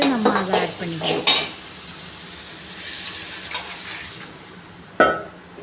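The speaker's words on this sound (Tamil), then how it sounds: "இப்போ வந்துட்டு நம்ம தாளிப்பு பண்ணிக்கிட்டு இருக்கோம் பார்த்தீங்களா" Spices for a fish curry crackle in hot oil while a metal spoon stirs and clinks against the pan, the stirring loud up front and then easing into a low sizzle.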